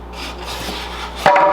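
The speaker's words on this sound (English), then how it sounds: "we'll go ahead and we'll get the shorter screws in there for a little test" Short screws driven into a wooden bonsai pot give a close rubbing, grinding rasp that builds steadily and then turns into a sharper, louder burst near the end, with no voices.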